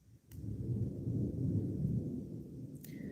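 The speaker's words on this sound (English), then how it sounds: "See, now that storm's rumbling again." Distant storm thunder, a low sustained rumble rolling on for nearly three seconds, heard from indoors at moderate loudness with no speech.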